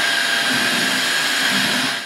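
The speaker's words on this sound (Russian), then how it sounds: "На минимальной мощности пылесос уверенно чистит щели глубиной до 6 мм." A Jimmy HW11 Pro hybrid upright wet-and-dry vacuum cleaner runs at minimum power while cleaning crevices on a test stand, giving a loud, steady, unbroken whirring hiss throughout.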